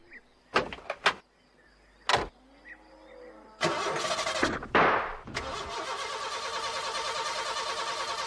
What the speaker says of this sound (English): She won't start, Ted.